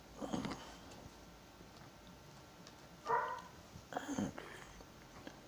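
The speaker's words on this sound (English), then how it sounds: "in the background barking" A dog barks a few times in the background, faint and sporadic, with short yips spread across the quiet.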